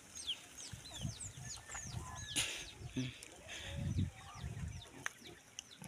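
Small chickens cluck and cheep in scattered bursts against a busy farmyard background, with a brief voice now and then.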